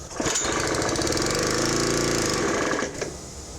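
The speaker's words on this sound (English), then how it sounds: "So that's idle, and that should run and actually make air." A Honda GX140 gas engine drives a Jenny air compressor, running loud and steady at close range with a dense mechanical drone that eases off slightly near the end.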